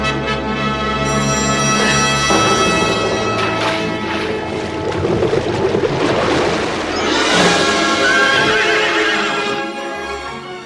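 A winged white horse from the 1981 Clash of the Titans film neighs loudly over a dense orchestral score, with whinnies and clip-clop hoofbeats rising and falling throughout.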